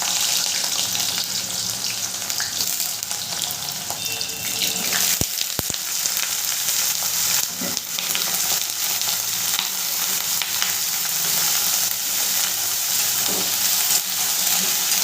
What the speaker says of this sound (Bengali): এরপরে আমি এই কেটে রাখা ইঁচড়গুলো দিয়ে দিলাম।